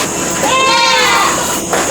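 A three-day-old goat kid on a farm gives one clear, close, wavering bleat, loud against a steady hum of background noise.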